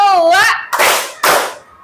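Elementary school children in a classroom game of Simon says clap their hands twice in unison, two sharp, close claps following a brief spoken voice.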